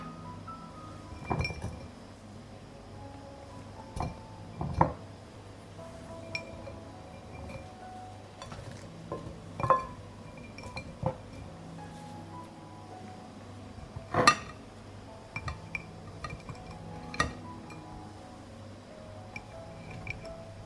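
Glass canning jars clink and tap repeatedly as they are packed with onions, peppers and tomatoes for preserving, scattered sharp knocks against a soft background of kitchen handling, close and moderately loud with no talking.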